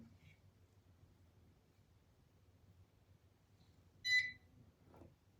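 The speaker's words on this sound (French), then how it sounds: "quand on entend ce petit bip, ça veut dire qu'on peut passer à l'autre côté" A facial care device gives one short, bright electronic beep during an evening skincare routine, standing out clearly over a quiet background with a soft low hum and faint breathy sounds.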